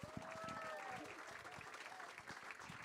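Audience applause for a performer after a live music set, a fairly faint, steady patter of clapping, with a voice talking over it and a brief sustained tone early on.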